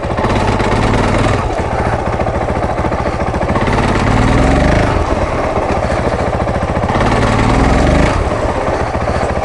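A Honda CRF450L motorcycle engine running in gear with the clutch out, a loud, close, continuous thumping single-cylinder drone with slight swells in revs and no voices.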